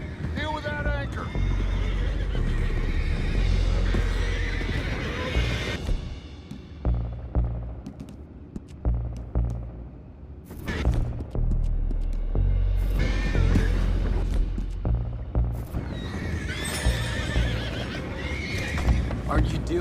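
Horses whinny loudly several times in Red Dead Redemption 2 on PS4 Pro, with hooves clip-clopping and people talking over the animals throughout.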